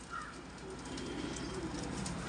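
Pet pigeons in a loft coo softly, low throaty murmurs repeating under a steady hiss of background noise, fairly faint and close.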